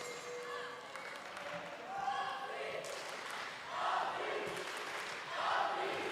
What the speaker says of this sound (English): And you can hear the Swiss fans, how they are cheering for their team.